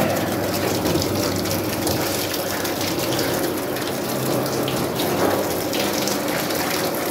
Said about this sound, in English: I'm just going to rinse off the starch.